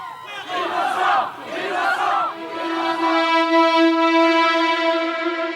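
A large crowd outside a courthouse after a guilty verdict shouts in loud, rising waves, then settles into a sustained, unified chant of voices.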